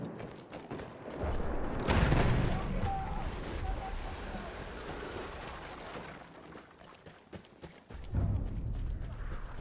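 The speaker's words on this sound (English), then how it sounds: "There's a horse over here." In the video game Battlefield 1, a horse's hooves clip-clop steadily amid distant gunfire and battlefield noise, with a voice talking over the action.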